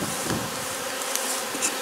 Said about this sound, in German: Das ist ein schöner, starker Schwarm.